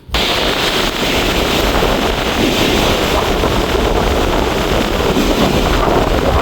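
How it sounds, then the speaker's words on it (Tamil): Strong coastal wind roars continuously and loudly from a low-pressure system at Kankesanthurai, a dense rushing buffet with no voices. "இந்த காற்று வந்து கொஞ்சம் வேகம் வேகமாக அடிக்குது"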